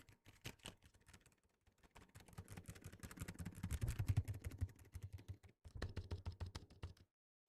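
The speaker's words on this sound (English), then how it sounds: "It's the quietest mechanical keyboard I could find." Quiet mechanical keyboard typing, with rapid soft key clicks in uneven bursts and short pauses, close but faint, with no talk.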